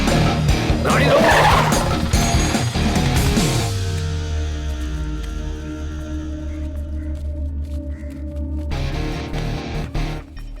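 A car brakes hard with a loud, drawn-out tire squeal, then the engine settles into a low idle rumble before revving again near the end.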